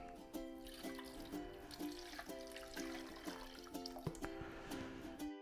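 Water pours and trickles through a pitcher filter into a container, a gurgling, bubbly flow with faint tonal ringing, close and fairly quiet.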